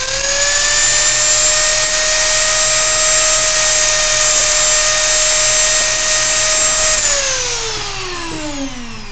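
Dremel rotary tool spinning at 35,000 RPM while cutting polystyrene plastic, a loud, steady high-pitched whine held for several seconds, then dropping in pitch as the motor winds down.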